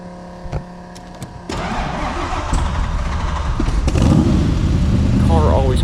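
A 1965 Shelby Cobra with a four-speed transmission: a short run of clicks and a pause, then the engine cranks and catches, settling into a loud, rough idle that builds up toward the end.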